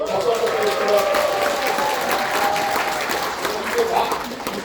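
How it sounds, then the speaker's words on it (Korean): An audience at a Korean political town-hall report meeting claps steadily and fairly loudly for several seconds, with crowd murmur mixed in. "박수 한번 드리겠습니다."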